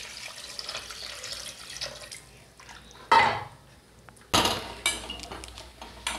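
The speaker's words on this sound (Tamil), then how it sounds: "இந்த கழனி ஊற்றிக்கிடலாம்" Rice-washing water splashes and pours into a pot of mutton bone soup in a few short bursts, with faint kitchen clatter and dripping in between.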